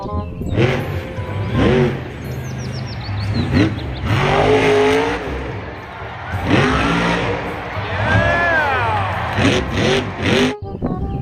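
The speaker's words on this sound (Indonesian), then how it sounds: "Yang ini namanya mobil truk monster teman-teman." Toy monster truck sound effects: repeated engine revs rise and fall in sweeping waves, with bursts like tire squeals and a crowd-like roar, loud and up close for the whole stretch.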